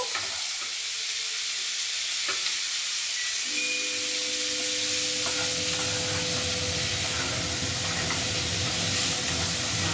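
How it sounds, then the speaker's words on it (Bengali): Half-boiled cauliflower florets fry in a pan with a steady, close sizzle and hiss, with occasional stirring scrapes and no talk over it. "তো আমি এগুলো জাস্ট একটুখানি ফ্রাই করব"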